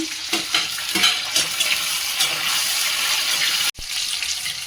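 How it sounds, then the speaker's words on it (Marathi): Long-cut green chillies drop into browned garlic frying in a pan, making a loud, textured sizzle with stirring scrapes and a sharp break near the end. "आता लसूण छान ब्राऊन झाल्यानंतर आपण मिरची टाकूया।"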